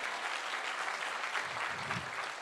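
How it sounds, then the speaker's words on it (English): An audience at a university event applauds, giving sustained, fairly distant clapping that holds steady from start to finish. "let's give a big round of applause for Professor PPC for hosting us"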